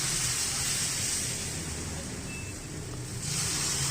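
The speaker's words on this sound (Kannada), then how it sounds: "ಸ್ವಲ್ಪ ನೀರು ಹಾಕಿ ದೋಸೆನ ಹಾಕೋಣ." A steady, loud hiss of water sprinkled on a hot griddle before making neer dosa, continuous and close, with a brief dip before it swells again; no talking.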